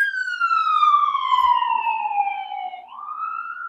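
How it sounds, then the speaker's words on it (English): A single police siren wails in the city, one long falling tone that swoops back up near the end, steady and moderately distant, with no talking. "That's just police sirens. It's common in the city."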